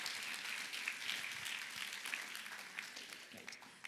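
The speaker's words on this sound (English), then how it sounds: "Can you give one more round of applause to Lalita Auntie and Basant Uncle?" Wedding reception guests applaud the bride's relatives, a soft, distant-sounding round of clapping from a large group, continuous and fairly quiet, with a faint voice underneath.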